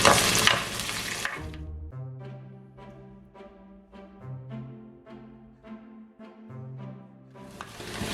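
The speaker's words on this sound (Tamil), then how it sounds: "இப்போ 2 நிமிஷமாக வதங்கி கொண்டிருக்கு" Onion, green chili and curry leaves sauté with mustard seeds in hot oil for a long beans varai, with a loud sizzle at the start and again at the end and tonal music playing in between.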